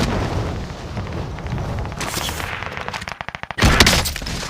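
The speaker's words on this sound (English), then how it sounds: "Someone's shooting at us." Gunfire in a first-person shooter match: a rapid string of sharp shots in the middle, then a loud booming burst near the end, over a dense busy game soundscape.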